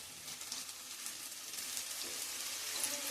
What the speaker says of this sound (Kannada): ನೋಡಿ ಎಣ್ಣೆಗೆ ಬಿಡ್ತಾ ಇದ್ದೀವಿ.